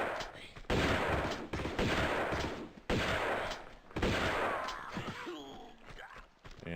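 Gunfire in Tomb Raider II Remastered, set in a monastery level, with loud bursts of rapid shots that come in several volleys separated by short gaps and are followed by a lighter, scattered tail.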